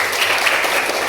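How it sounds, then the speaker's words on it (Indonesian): Audience applause at a community talk or lecture, a brief burst of steady, dense clapping from a room full of people. "beri tepuk tangan dulu"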